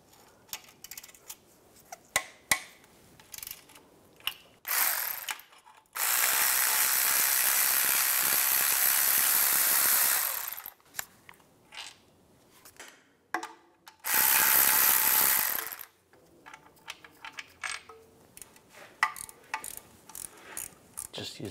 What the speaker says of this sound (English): Just using a 16 millimeter ratchet wrench.